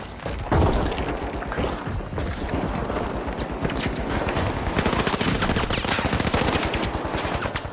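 A grenade blast at the start followed by dense, continuous automatic gunfire in The Finals, loud and rattling with steady rapid shots throughout.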